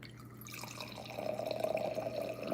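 Wine streams from a button-release dispenser into a glass, a steady liquid pour and trickle that swells in the second half, close by, with no talk.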